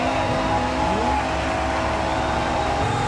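Motorized diecast toy cars race along a track, producing a loud continuous buzzing whir of small motors with a wavering pitch and no breaks.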